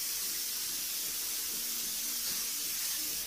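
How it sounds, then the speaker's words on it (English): Steady hissing spray from a can of degreaser, fairly soft and continuous for a few seconds with no talking. "to do that, I've got this spray degreaser"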